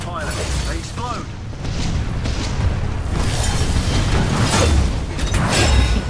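Stalker enemies blow up in a video game firefight, giving a continuous rumbling wash of booms and gunfire-like bursts that holds steady and loud throughout, with game clatter layered on top.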